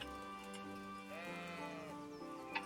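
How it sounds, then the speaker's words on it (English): A sheep in Kingdom Come: Deliverance bleats in long wavering calls, fairly quiet against a faint ambient backdrop, followed by a small click near the end. "There's a sheep."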